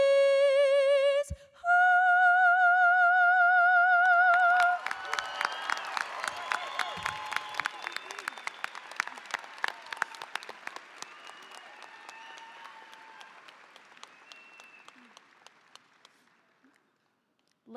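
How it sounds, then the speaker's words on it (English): Held tones of the choir and band close out, then a graduation ceremony audience in a high school hall breaks into sustained applause that swells, stays dense for several seconds and slowly fades to silence. "Let's give Bianca, our choir, band, and ROTC a big round of applause"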